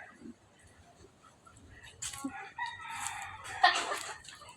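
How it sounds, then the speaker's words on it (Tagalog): Rooster crowing at a farm among several chickens, with faint clucks before two louder crows in the second half, mixed with soft talk and rustling nearby. "May mga chicken."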